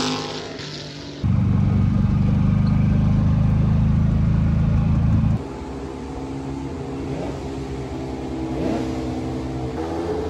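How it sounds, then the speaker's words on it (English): Ferrari race cars sit running in the paddock at Road America, a loud, steady engine drone for several seconds that suddenly cuts to a quieter mix of idling engines and outdoor bustle. "This time they have the Ferraris going because they're going to take them out on the track pretty soon."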